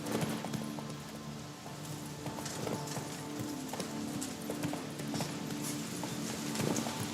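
Roach, the horse in The Witcher 3, gallops with a fast, steady clip-clop of hooves that runs continuously at moderate volume under ambient game sound.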